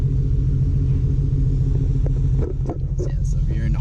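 Harley-Davidson motorcycles rumble nearby at a Harley dealer, a steady deep engine drone with some shifting road noise, loud and continuous throughout.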